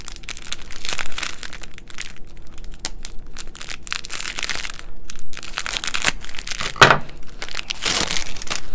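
Crinkly plastic packaging of a small beauty product being torn and crumpled open, with continuous close rustling and crunching and a sharper crack near the end.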